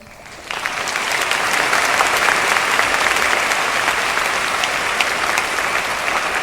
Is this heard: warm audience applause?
yes